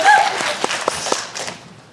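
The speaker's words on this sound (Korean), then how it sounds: "그리고 박수만." Audience applause at a Korean film screening talk event, brief and light with a few distinct claps, fading out under a speaking voice.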